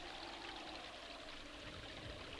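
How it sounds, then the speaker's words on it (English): An Alaskan meltwater stream in the spring thaw flows as a steady, continuous rushing wash of water, faint and even, with no voices. "Meltwater streams drain into valleys and swell the rivers"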